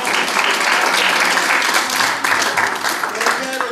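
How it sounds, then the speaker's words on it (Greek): An audience applauds after a lecture at a round-table discussion about Nikos Engonopoulos, painter and poet. The clapping is dense, steady and loud throughout, with a voice speaking over it. "Λοιπόν, να χειροκροτήσουμε τον κύριο"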